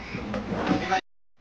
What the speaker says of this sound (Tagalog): First drawer.